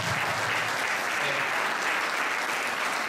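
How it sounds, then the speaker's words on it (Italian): Audience applause at an official award ceremony for a memorial event, honouring a former mayor: steady, dense clapping from a sizable crowd fills the whole stretch at even loudness. "vi chiedo un applauso"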